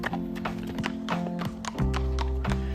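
A mare walks across an open urban park plain, her hooves clip-clopping in a steady, close rhythm over a low hum of background tones, with no speech heard.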